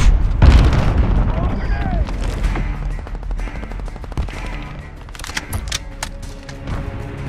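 Grenade explosions in Call of Duty Modern Warfare multiplayer on PS4 Pro: a heavy boom near the start, then scattered gunfire and crackling impacts over a busy battlefield, with game voices calling out.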